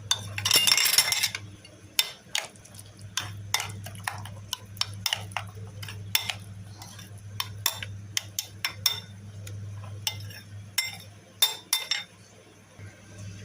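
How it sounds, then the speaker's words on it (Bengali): A spoon clinks and taps quietly against a dish while mashing and mixing eggplant bharta made from eggplant roasted on a gas stove, with irregular scraping knocks and soft wet sounds. "এটাকে ভালোভাবে ম্যাশ করে নেব চামচ দিয়ে ভালোভাবে মিশিয়ে দেব"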